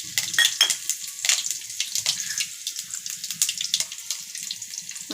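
Curry leaves and green chilies dropped into hot oil after mustard seeds popped, cooking uppittu: steady close sizzling and crackling with sharp spitting bursts, no talk.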